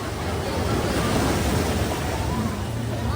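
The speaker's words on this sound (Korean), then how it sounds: "근데 파도 좀 무서워" Ocean waves on a beach at Mui Ne, Vietnam, a loud, steady roar of surf mixed with wind buffeting the microphone.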